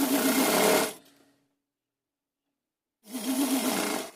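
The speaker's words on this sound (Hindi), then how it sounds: "ये किनारे किनारे सिलाई लगा लेनी है" A sewing machine stitches along the folded edges of a doll-sized costume bodice. It runs in two steady, loud whirring bursts, separated by a few seconds of silence.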